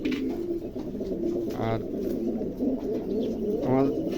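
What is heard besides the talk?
pigeons cooing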